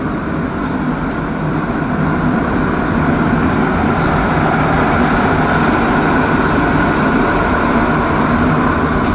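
Steady, loud rumble of a Montreal Metro train in afternoon rush hour, riding toward Lionel-Groulx, with a continuous broadband roar and faint hum, no speech.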